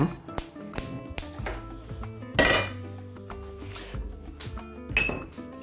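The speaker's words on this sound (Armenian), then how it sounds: "Վերցնում ենք կաթսա" A metal cooking pot being picked up and set down, with sharp clanks and clinks of cookware ringing out in several distinct hits, close and fairly loud, with no talking.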